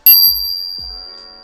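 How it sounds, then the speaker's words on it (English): A runner's handheld bell gives one bright, ringing strike that decays slowly, loud and close, followed by a couple of low thuds. "let the bell do it for you"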